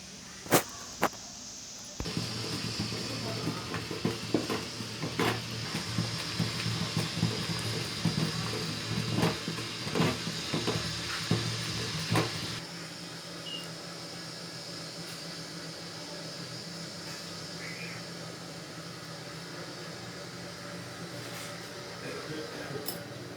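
Jaggery syrup boiling in a pan, a steady bubbling hiss with scattered pops and clicks, louder through the first half and then quieter and thinner, with faint voices in the background.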